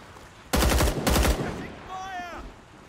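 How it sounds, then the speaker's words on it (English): RPK machine gun mounted on a tripod in Rising Storm 2 firing two short, loud bursts of rapid cracking shots, followed by a faint whistling tone as the echoes fade. "Vietnamese RPK, I think. A machine gun on a tripod."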